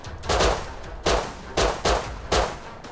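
Gunfire in the survival game Rust: five sharp, loud shots spaced roughly half a second apart, each with a short ringing tail, close and clear with no talk.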